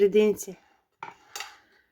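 A knife blade clinks against a plate while slicing homemade ricotta cheese, two short bursts of metallic scraping and tapping separated by a brief silence, close and clear.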